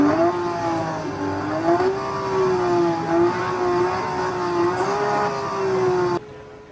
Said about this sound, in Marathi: गाडी ओरिजिनली स्टार्ट करतानाचा साऊंड येतो, आपण स्टार्ट वगैरे दाबल्यावर, ॲक्सिलेटर दाबल्यावर ते पण येतं